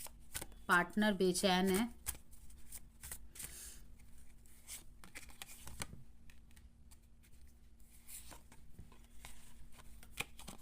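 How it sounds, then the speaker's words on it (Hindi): A deck of tarot cards is shuffled in the hands, making rapid riffling flutters and soft slaps, with a short spoken phrase at the start and quiet intermittent handling afterwards. "बहुत ज़्यादा कार्ड्स जंप हो रहे हैं हाथ से"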